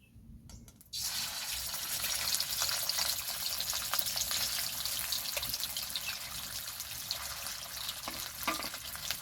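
Ground carrot paste drops into hot white oil in a wok and erupts into a loud, dense sizzle that holds steady and continuous, with faint stirring scrapes beneath it.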